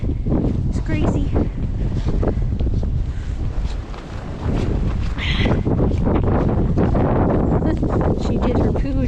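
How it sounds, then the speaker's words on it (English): Strong gusting wind from a Newfoundland blizzard buffets the microphone with loud, continuous roaring rumble that briefly eases midway, while a person speaks over it outdoors. "Wind is crazy."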